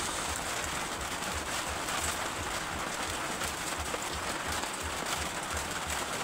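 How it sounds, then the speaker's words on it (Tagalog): Steady rain falls outdoors, a dense even hiss with scattered patters that holds constant throughout, with no voices present. "Umuulan dito sa amin mga ka-winding."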